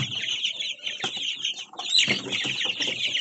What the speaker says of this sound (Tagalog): Ganda ng ating mga sisiw.